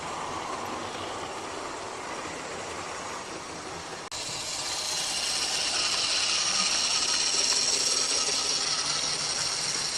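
A Hornby model Castle class locomotive, 7028 Cadbury Castle, running on a layout with a steady broadband whirring rush that grows louder and closer after a brief dip, continuous and noisy throughout.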